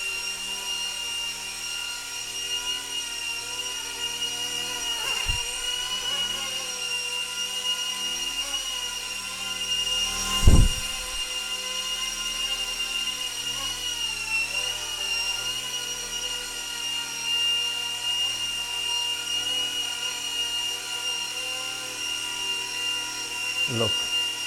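An RC ERA MD500 Hughes model helicopter flies nearby with a steady high rotor and motor whine, and a couple of sharp knocks break through partway.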